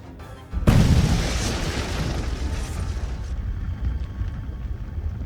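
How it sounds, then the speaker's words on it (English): A warehouse explodes in a mystery adventure game set in an Alpine hotel, a loud sudden boom after a brief lull, followed by a sustained roaring rumble of fire and debris that fills the rest of the moment. "The warehouse has gone up in flames."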